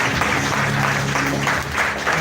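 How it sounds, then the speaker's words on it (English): Steady, dense applause from an audience at a recognition event in Zambia, many hands clapping continuously at moderate loudness with faint crowd murmur beneath. "Let's give a big round of applause."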